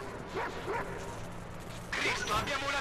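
Yips and barks from a dog in the video game Watch Dogs 2 come in a few short bursts, with a louder flurry near the end, set against game ambience and an Italian-speaking player.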